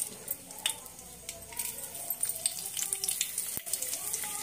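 Garlic cloves fry in hot oil in a pan, a quiet hissing sizzle broken by small utensil clinks and scrapes, with a voice faintly present underneath.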